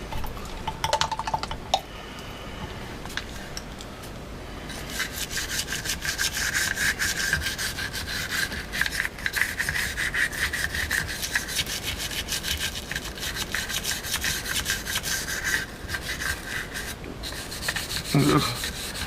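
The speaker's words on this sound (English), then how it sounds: "I'll use the small brush to get down here in this little groove" A small AR-15 style brush scrubs rifle parts in a steady, close, rapid rasping rhythm that runs almost unbroken throughout, with no talking.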